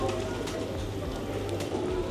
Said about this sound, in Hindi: हाँ, कबूतरों के मजे है।